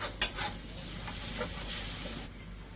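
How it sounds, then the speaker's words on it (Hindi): Fish being fried with mustard spice paste in a pan for a Mithila masala fish curry, a continuous loud sizzle with a couple of spoon scrapes near the start. "तो इसको अभी हम बस 2 मिनट भुनेंगे मसाले के साथ"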